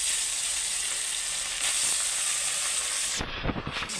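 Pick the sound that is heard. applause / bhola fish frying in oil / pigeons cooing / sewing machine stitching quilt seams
bhola fish frying in oil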